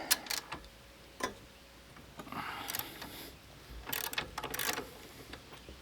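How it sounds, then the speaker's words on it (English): A tool clicks and ratchets while the anti-derailleur is removed from the rear lug of a TST Defender e-bike, giving irregular bursts of close mechanical ticks with quiet gaps between them. "The anti-derailer goes right back here on the rear lug. And so I'm going to go ahead and remove that."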